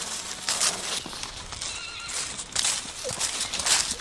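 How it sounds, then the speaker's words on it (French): A horse whinnies at a riding arena, the neigh rising over the clip-clop of hooves and stamping, fairly close, with a few quiet voices in the background. "Il a peur des autres chevaux et tout."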